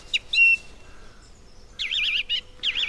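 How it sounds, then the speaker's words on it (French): A recorded bird song plays alone, close and clear, with short chirps followed by rapid warbling trilled phrases separated by brief pauses. "Alors celui-là, c'est un oiseau"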